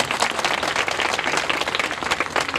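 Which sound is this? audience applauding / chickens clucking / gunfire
audience applauding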